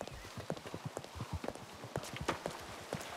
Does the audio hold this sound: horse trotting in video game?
yes